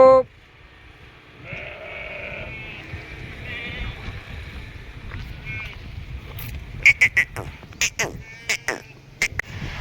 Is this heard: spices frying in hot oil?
no